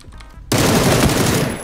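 Automatic gunfire in the battle royale game PUBG, a sudden loud, dense burst of rapid shots that starts abruptly after a quiet moment and continues steadily to the end.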